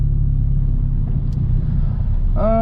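A manual car's engine accelerates in third gear with a steady, loud, low rumble heard from inside the cabin, with a brief voice entering at the very end.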